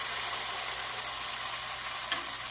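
A birria taco fries in hot oil in a pan at home, with a steady, close crackling sizzle that holds evenly throughout with no voices.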